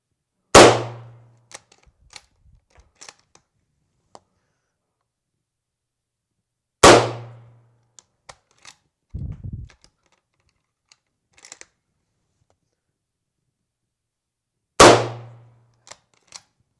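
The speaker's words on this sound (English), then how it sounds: "So we'll take a couple shots and we'll see what happens." Three sharp rifle shots from a top-loading Mauser-type bolt-action rifle, spaced several seconds apart. Each is a loud crack with a quick decay, and faint clicks and handling noises fall between the shots.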